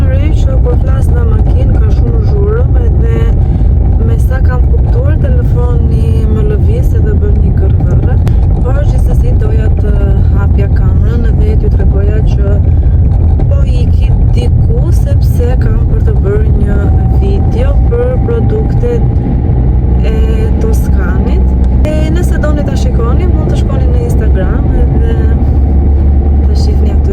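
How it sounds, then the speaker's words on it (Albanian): Inside a moving car, a constant loud low road roar and engine drone fills every moment, steady and unbroken, while someone talks over it. "kam vënë re që kur flas në makinë ka shumë zhurmë"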